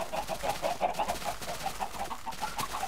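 Chickens cluck in steady repeated bursts on a chicken farm in the game Minecraft, moderately loud, with a faint background hum and no talking.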